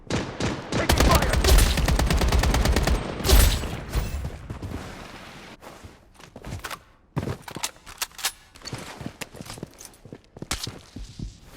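Rapid gunfire bursts crackle in the shooter video game Blood Strike, dense automatic shots in the opening seconds followed by scattered, sharper single shots and distant pops, with a brief in-game voice line.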